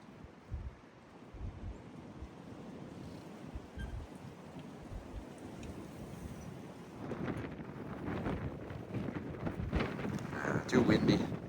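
Strong wind blows outdoors by the sea, buffeting the microphone with rumbling gusts that grow louder toward the end, and a voice is faintly heard under it.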